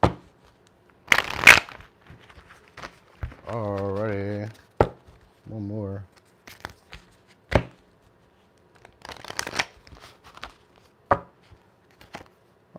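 Tarot cards shuffled in short riffling bursts at close range, with brief crisp card snaps between them and a person speaking a few words.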